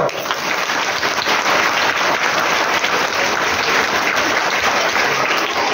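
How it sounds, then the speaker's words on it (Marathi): An audience at a children's literature gathering held in a high school breaks into loud, sustained applause, dense clapping filling the whole stretch at an even level. "टाळ्या वाजवतो"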